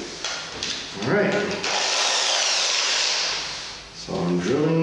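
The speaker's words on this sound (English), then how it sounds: "so I'm drilling into the piece." A power drill whirs as it bores into a wooden arcade cabinet piece, a sustained grinding buzz between brief bits of speech before and after.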